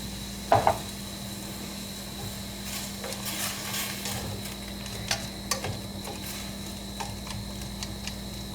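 Scrambled tofu cooking in a pan: a faint, steady sizzle under a constant hum, broken by occasional light scrapes and taps of a utensil, close and quiet with no talk.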